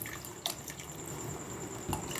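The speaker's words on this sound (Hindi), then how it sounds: "अब मैं इसमें पानी ऐड कर दूंगी।" Water is poured into a pan of fried boneless chicken for a karahi, a soft steady trickle with a couple of light splashes, close and fairly quiet.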